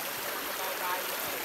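Waterfall flowing in a natural outdoor setting, a steady broadband rush of water that stays constant and fairly close, with faint voices mixed in underneath.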